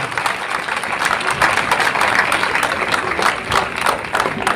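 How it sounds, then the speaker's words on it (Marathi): A hall audience in Bhusawal gives dense, steady applause for the performers of a play. The many clapping hands blend into a continuous roar at moderate distance. "एकदा मोठ्यांदा टाळी वाजवून आपण या सर्वांचं अभिनंदन करूया"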